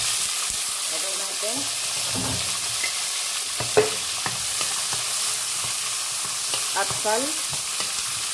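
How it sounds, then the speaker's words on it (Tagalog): Onion sizzling and frying in a pan while being stirred, a steady hiss with scraping utensil strokes, as a person speaks briefly over it. "Nakita nyo na yung onion nag-brown brown."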